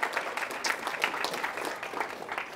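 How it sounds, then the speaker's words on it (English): Audience applause at a talk, a dense round of clapping filling the room at moderate level with no voices over it. "So if I could just get a round of applause for all those groups for helping to make that happen"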